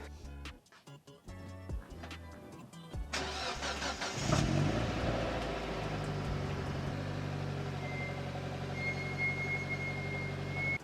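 A green Mazda Miata with a new exhaust cranks with a few chugging turns, starts, then settles into a loud, steady close idle with a rough exhaust drone and slight revving.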